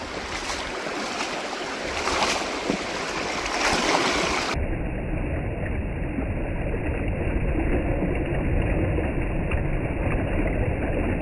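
A mountain creek rushes over rocks in a continuous, close, full-bodied wash of flowing water, steady and unbroken throughout with no voices.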